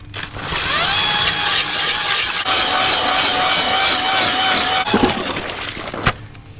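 A hand ice auger with dull blades grinds through lake ice for ice fishing, a continuous loud scraping drone lasting about six seconds, close up, ending with a few knocks.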